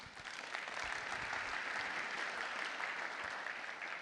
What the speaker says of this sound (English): One last round of applause for them.